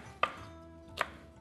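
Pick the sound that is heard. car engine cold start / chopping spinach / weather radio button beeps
chopping spinach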